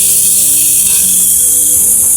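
Bottle gourd pieces frying in oil with cooked-down spices make a loud, steady hiss and sizzle that runs unbroken throughout, with no voices over it.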